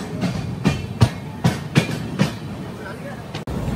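A Hamsafar Express train rolls along the rails near Chennai, a run of rhythmic wheel clacks over rail joints coming at steady intervals under a constant rumble, fairly close.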